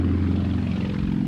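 A Sukhoi aerobatic plane, a Soviet-designed competition aircraft from 1984, drones overhead with a steady, buzzing propeller-engine tone, strong low harmonics holding even and loud across the whole brief stretch, with no voices.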